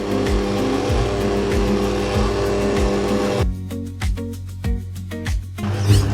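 Electric mixer churning thick bee candy fondant, a loud, close motor drone with a regular pulsing rhythm that eases to a slower, lighter beat as the speed drops, no talking.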